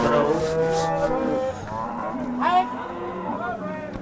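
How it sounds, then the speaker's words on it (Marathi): Large cows at the Sangola cattle market moo loudly, several drawn-out lowing calls overlapping amid busy market background noise. "आजच्या सांगोला गाय बाजारातील मोठ्या मापाच्या गायी आहेत"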